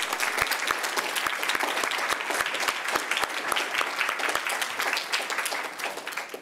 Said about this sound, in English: a round of applause for these beautiful students